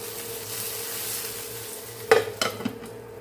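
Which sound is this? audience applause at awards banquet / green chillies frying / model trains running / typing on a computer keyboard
green chillies frying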